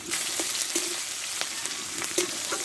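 Two large chopped onions hit hot oil in a pan, a bright steady sizzle with occasional stirring scrapes and crackles throughout.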